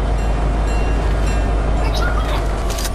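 A train rolls past in the Fortnite video game, a loud continuous rumble with metallic rattling and faint squealing throughout.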